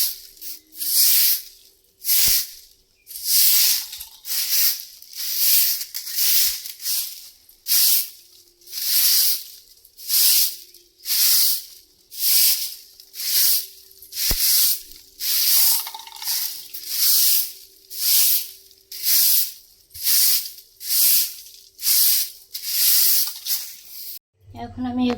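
Utensils being scrubbed clean by hand, rhythmic rasping strokes repeating steadily, each about a second long, loud and close throughout.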